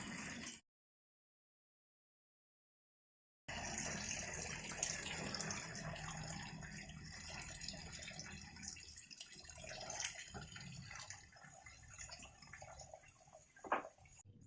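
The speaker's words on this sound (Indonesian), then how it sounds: "supaya nanti ketika disiram seperti ini airnya tidak mengendap di dalam pot ya, jadi keluar." Water poured onto a potted calathea set in a mix with bamboo leaves and fern roots, trickling and draining out of the pot in a steady, close splashing flow after a brief silent gap.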